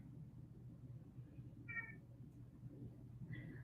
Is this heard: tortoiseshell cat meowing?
yes